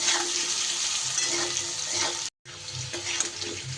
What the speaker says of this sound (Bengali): আলু কিন্তু বেশ সুন্দর করে লাল লাল করে ভাজা হয়ে গেছে